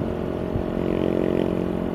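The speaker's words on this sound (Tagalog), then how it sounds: "kasi lumalakas yung tunog ng muffler eh, no?" Steady muffler exhaust drone from a vehicle driving at night, a continuous low rumbling hum with slight fluctuations, close and fairly loud.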